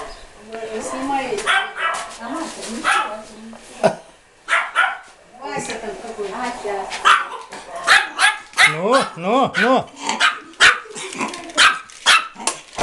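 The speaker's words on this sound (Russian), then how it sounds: "Вот собачка маленькая у них." A small dog barks and yips repeatedly in quick bursts close by in a house yard, while people talk intermittently between and over the barks.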